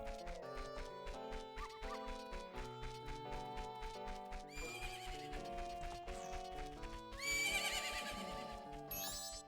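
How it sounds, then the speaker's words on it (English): In the Majora's Mask video game, a horse whinnies and its hooves clop in a steady rhythm over looping game music, the neigh rising loud near the end. "Isn't that your horse?"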